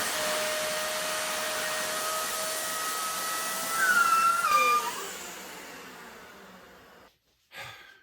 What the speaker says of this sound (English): Time to vacuum up the excess and hopefully reveal a very nice narrow path.